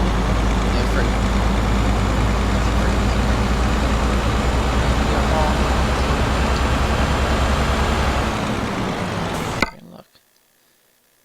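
A truck loaded with gravel drives in Euro Truck Simulator 2, with a loud, steady low engine drone that holds throughout and then cuts off abruptly just before the end.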